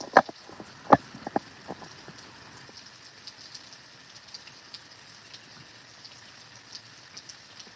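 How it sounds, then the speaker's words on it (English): Rain falls outside, a soft steady patter with a few sharper drops and taps near the start, fading to a faint continuous hiss with no voices. "But I can't get out in the rain now."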